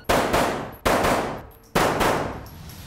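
Gunshots fired in a timed shooting drill, roughly five loud sharp reports in paired bursts, each followed by a decaying echo, close and with no talk.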